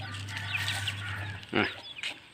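Young fighting-cock chicks on a breeding farm cluck and peep in short, close bursts, a few overlapping calls rising over a steady low hum.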